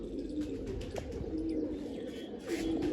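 Pigeons cooing in low, repeated, throaty calls, with a few faint chirps from other birds nearby.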